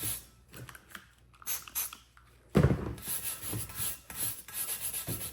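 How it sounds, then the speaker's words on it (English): A grout brush scrubs an intake manifold on a 1985 Chevy Caprice Classic, close bristly rubbing in irregular strokes that starts light and becomes louder and more vigorous partway through. "This is like a grout brush. As well to get into some of these nooks and crannies."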